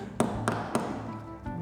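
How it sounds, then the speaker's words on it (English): Wall plugs are knocked into brickwork with four crisp, evenly spaced taps, the last one softer, close by and with no talking. "now we knock our plugs in."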